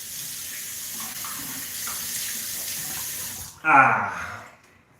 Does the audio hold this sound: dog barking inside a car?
no